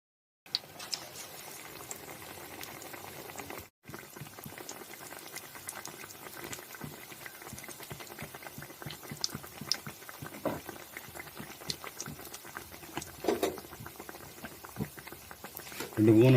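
Batter-dipped omelette pieces deep-frying in hot oil for omelette bajji, a steady bubbling boil with fine crackling patter throughout, close and moderately loud, briefly cut near the start.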